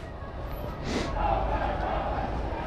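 Protest crowd moving along a city street in Seattle, a diffuse distant roar of many voices with a brief swell of shouting, steady and continuous throughout.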